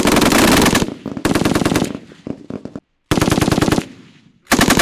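Marine machine gun fire during a live-fire marksmanship exercise at Fuji Viper 21.4: loud, close bursts of rapid automatic shots separated by short pauses, one brief silence and then more sustained strings of fire.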